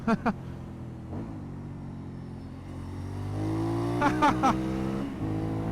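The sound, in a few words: Aprilia Shiver 900 motorcycle engine accelerating while overtaking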